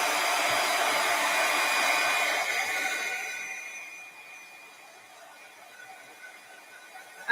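A handheld hair dryer blows a loud, steady whooshing roar over a craft project, easing down partway through to a quieter hum before a sudden clunk at the very end.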